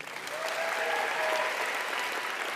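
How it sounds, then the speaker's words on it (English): A crowd at a high school commencement ceremony applauds steadily, the dense clapping building slightly at the start and holding loud and continuous, with a faint voice briefly audible. "I'll ask you to hold your applause until all the adults are read"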